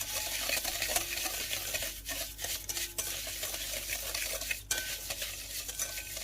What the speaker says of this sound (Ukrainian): І беремо, перемішуємо вінчиком.